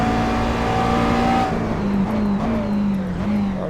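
Race car engine on a hot lap in a sim racing game, played on Oculus Rift DK2 in titles like Project CARS, Assetto Corsa and iRacing: loud, steady, high-revving drone, pitch dropping briefly on a shift and then holding, with no talk.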